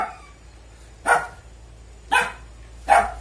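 Several dogs barking, with three separate loud, sharp barks spaced about a second apart over faint background noise.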